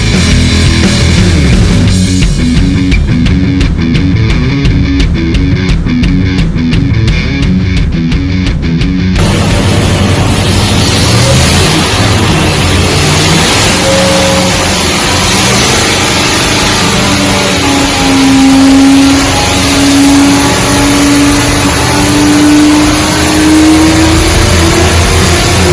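A 1400-horsepower Whipple supercharged marine engine running on pump gas, a loud, continuous roar that settles into a steady drone with rising and falling pitch, close up and without speech.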